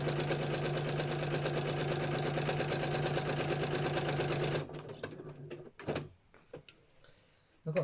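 A sewing machine stitches paper elements onto a Gelli-printed art journal: a loud, steady mechanical whirring hum for several seconds, then it stops, leaving scattered handling clicks and rustles.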